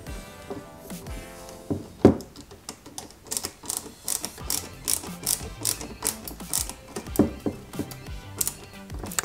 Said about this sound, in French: on fixe cette pièce ici, au milieu, avec une vis GM